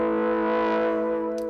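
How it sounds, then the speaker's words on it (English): A sustained synthesized tone driven through a transformer-style distortion effect in the AIR Flavor Pro plugin, a thick buzzing harmonic-rich drone held steady and loud, with a brief brighter blip near the end. "So now we're basically just getting all distortion"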